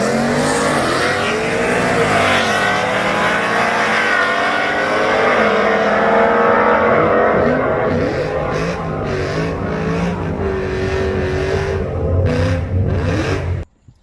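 A Ram truck with a stock-bottom-end 5.7 engine on race gas makes a drag strip pass, its loud engine roaring and climbing steadily through the gears for about thirteen seconds before cutting off abruptly.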